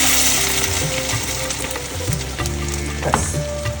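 Water poured into a hot pan of veg kurma sets off a loud, continuous sizzle, steady throughout with a few spits and bubbling bursts, while a low tonal hum runs underneath.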